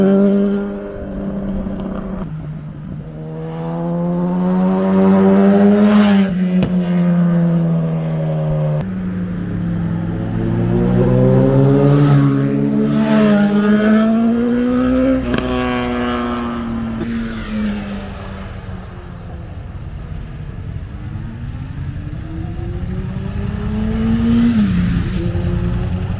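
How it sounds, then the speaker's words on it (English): Several motorbikes ride past one after another on Peak District roads, engines loud and close, revving up and fading in repeated rising and falling sweeps, with no talking over them. "Loads of bikes coming past."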